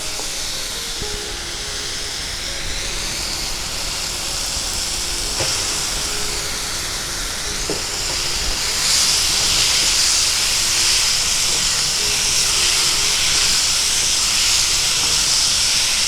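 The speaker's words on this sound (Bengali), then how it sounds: "মশলাটা কষাতে কষাতে আমি চিংড়ি মাছটা দিয়ে দিচ্ছি।" Prawns frying in a spice masala being stirred down for a Bengali prawn and kochur loti dish give off a steady, loud sizzling hiss that swells around the middle and stays strong to the end, with no talking.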